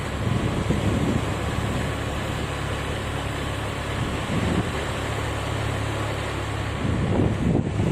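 Sea waves and gusting wind at a shoreline, heard as a constant, loud, broadband rush that blows across the microphone with no break and no talk for the whole stretch.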